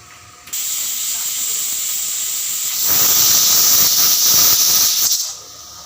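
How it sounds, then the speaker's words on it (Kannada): A pressure cooker on the stove lets out a loud, steady hissing whistle while avarebele saaru cooks, with steam building to a stronger, brighter blast midway before cutting off near the end. "ಈಗ ಲಿಡ್ ಮುಚ್ಚಿ ವೈಟ್ ಬಾಯ್ಲ್ ಹಾಕಿ 2 ಕೂಗ್ಸೋದು ಅಷ್ಟೇ."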